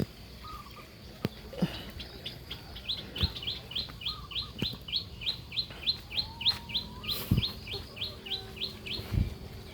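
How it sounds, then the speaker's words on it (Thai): Chickens cluck and chirp in a rapid repeating series outdoors, with scattered knocks and thumps and faint ambient noise around them. "ไก่ไก่กุ๊กกุ๊ก"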